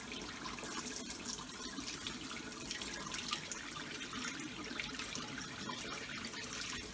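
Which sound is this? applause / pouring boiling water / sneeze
pouring boiling water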